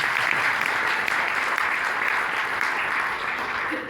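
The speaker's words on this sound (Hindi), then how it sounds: "तालियां बजाइए लोगों से।" Dense, steady applause from a large audience at a trust-run camp gathering in Khamgaon, sustained at an even level for the whole stretch with no break.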